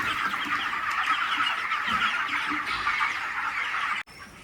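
Broiler chickens about 26 days old cluck and murmur together in a poultry shed, a dense, steady chorus of many birds close by with no talking, ending abruptly near the end.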